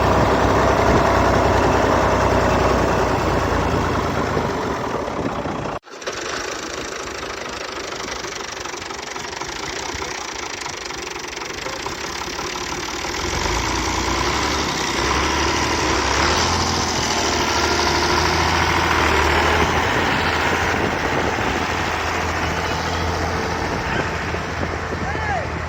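A tractor engine idles and runs with a steady knocking rumble as it is driven, briefly cutting out near the start before continuing; voices talk intermittently over it.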